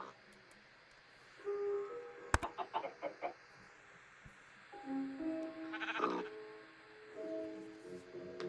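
Sheep bleat in the Minecraft Skyblock video game, several wavering calls spaced through the clip, with a sharp click and a few clucking farm-animal sounds between them.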